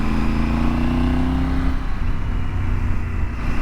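A vehicle accelerates in second gear, its engine note climbing steadily for under two seconds before settling into a rougher, lower rumble with road and wind noise.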